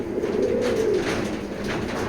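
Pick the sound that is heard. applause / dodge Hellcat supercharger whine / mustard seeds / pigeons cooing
pigeons cooing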